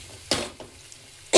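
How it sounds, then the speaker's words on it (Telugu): Onions frying in a pan for chicken curry, a soft sizzle broken by a few sharp stirring scrapes and clatters of a utensil against the pan, close and with no talk. "ఉల్లిపాయలు అయితే ఫ్రై అయినాయి."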